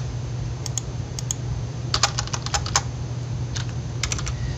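Typing on a computer keyboard to enter trading values, with short clusters of crisp key clicks separated by pauses, close and clear over faint background hum.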